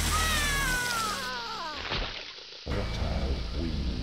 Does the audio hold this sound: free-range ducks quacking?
no